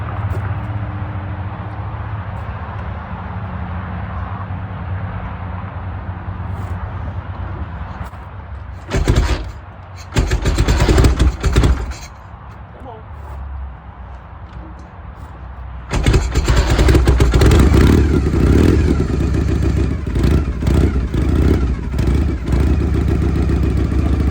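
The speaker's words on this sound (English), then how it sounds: "This bike here is 1975 Harley Davidson FLH, basically a stripped down dresser." A 1975 Harley-Davidson FLH stripped-down dresser idles with a low rumble, cranks and catches in clattery bursts, then roars louder as it rides off, deep exhaust thumping close by.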